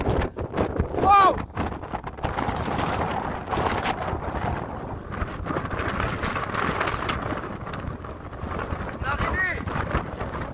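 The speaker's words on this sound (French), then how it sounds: "Oh, le vent!" Strong wind on the summit of Croagh Patrick in Ireland buffets the microphone with a constant loud rumbling roar and gusts, while people speak excitedly over it.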